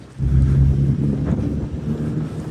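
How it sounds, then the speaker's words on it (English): Heavy wind buffeting the microphone in a churchyard at All Saints, Walcott, Norwich, a constant low roar that starts abruptly and holds steady throughout, close and loud. "it's a very windy day today"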